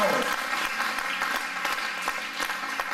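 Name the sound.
church congregation applauding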